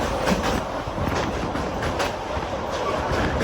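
An Intercity Superfast Express train from Bhubaneswar to Visakhapatnam runs along the rails with a steady, loud, broadband rumble and faint clatter that holds constant throughout.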